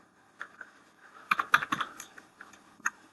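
Short bursts of keystrokes on a computer keyboard while entering a numeric dimension value in Creo CAD software, a few scattered clicks then a quick cluster of taps, close and fairly quiet, with no talking.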